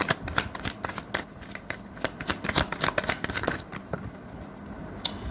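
Tarot cards being shuffled close up, a dense run of crisp riffling and flicking snaps that continues steadily throughout without speech.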